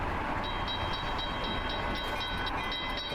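A GP40 diesel locomotive in Train Sim Classic hums along steadily, with a rhythmic high-pitched ticking repeating about every quarter second over the continuous rolling rumble, fairly quiet and with no voices.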